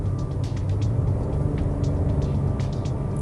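Hyundai Creta 2022 SUV climbing a short uphill stretch, engine giving a steady low drone with road noise, heard from inside the cabin at moderate level with no talking.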